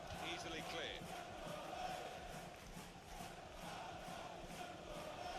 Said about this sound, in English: Can you hear the crowd saying Alan Pardews, Barmy Army?